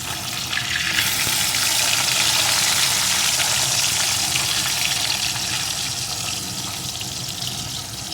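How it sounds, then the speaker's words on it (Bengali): Pomfret fish frying one piece at a time in a pan, a steady broadband sizzle that holds loud and even from start to finish, with no voices. "আমি এখানে একটা একটা করেই ভাজবো খুব বেশি লাল লাল করে ভাজবো না"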